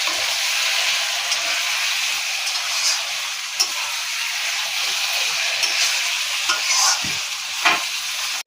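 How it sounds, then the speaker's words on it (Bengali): Chicken pieces and pre-fried potatoes sizzling loudly as they are stir-fried together for a Bengali chicken curry, a steady bright hiss with occasional scraping clicks from stirring and no voices. "এবারে দিয়ে দেবো আলুগুলো, ভেজে রাখা আলু দিয়ে ভালো করে কষতে নেবো।"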